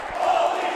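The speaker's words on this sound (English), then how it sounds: "Listen to this crowd in AC right now." Crowd cheering at a live pro wrestling event in AC, a steady roar of voices rising briefly in the middle of the short stretch.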